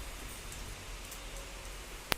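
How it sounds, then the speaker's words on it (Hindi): Evening rain falls steadily outside a house, a soft continuous hiss of drops with one brief sharp tap near the end, fairly faint and with no voices. "फिर से बारिश लग गई है"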